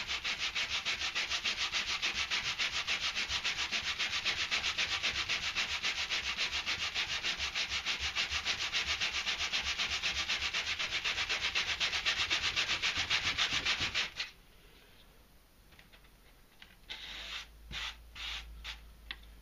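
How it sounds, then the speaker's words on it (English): Hand sanding a flat piece of pyrography wood with sandpaper, a steady close rasping rub that runs on without a break, then stops and gives way to a few short scrapes. "we can always even it out by hand later with some finer sandpaper"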